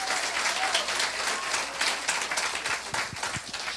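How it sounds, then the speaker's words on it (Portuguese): A church congregation applauds, a steady wash of many hands clapping at close range with a slight swell and fade, filling the moment alone with no voices over it. "Aplauda Jesus, meu irmão."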